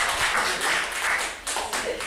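A meeting audience in Brazil gives a brief round of applause, a moderately loud patter of clapping hands that swells and fades over about two seconds.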